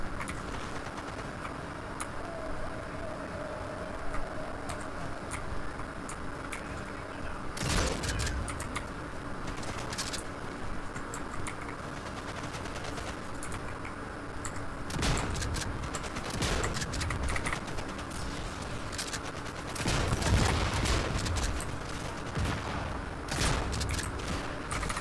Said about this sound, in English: I don't like that machine gun opening up on the vehicle.